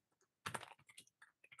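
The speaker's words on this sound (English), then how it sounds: "Apologies to listeners for my noisy keyboard" Keys clack on a noisy computer keyboard, a quiet, uneven burst of about a dozen sharp taps with a louder cluster near the start, heard alone.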